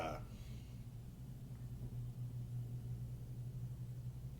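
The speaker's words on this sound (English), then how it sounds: "Oh, it's garage door." A garage door rumbles, a low, steady drone heard faintly in the background throughout.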